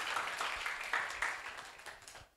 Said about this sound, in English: give applause again to Professor Stephen